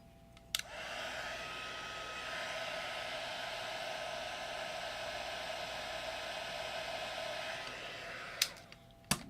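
Heat embossing tool blowing hot air over a handmade greeting card, a steady hissing whoosh like a small hair dryer running for several seconds, with a click as it switches on and faint clicks near the end.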